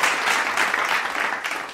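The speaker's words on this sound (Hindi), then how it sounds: "आप तालियों से उनका स्वागत करें।" An audience at a Holi poetry gathering (kavi sammelan) welcomes a poet with dense, continuous applause, a full wash of many hands clapping together.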